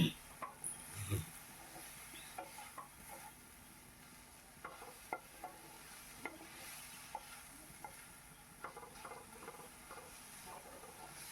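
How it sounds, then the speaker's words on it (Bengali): Jute leaves stirred and fried in a pan give soft, faint scraping and stirring taps with light frying noise underneath, steady for the whole stretch with no talking. "এভাবে ভালো করে নেড়ে চেড়ে শাকটিকে ভেজে নিতে হবে।"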